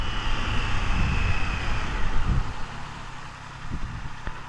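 Triumph Trident 660 motorcycle engine while riding, a steady close drone mixed with wind rush that eases slightly toward the end, with no talk.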